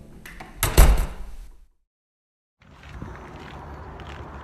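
An office door closes with a sharp, loud thud and rattle right up close, then silence follows before a faint room ambience returns.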